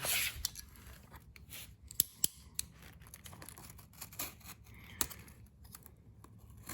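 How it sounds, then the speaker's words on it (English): Scissors snip firework fuse close to where it enters a consumer-grade firework cake, giving a few sharp, quiet clicks and cuts against a soft, near-silent background. "Just be careful not to cut your fuse."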